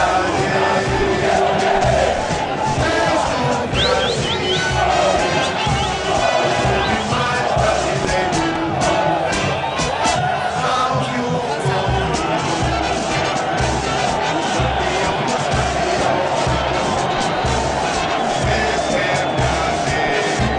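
Football fans in a packed stadium celebrate a Copa Libertadores title, a dense, loud roar of crowd noise and chanting holding steady throughout with scattered shouts and crashes.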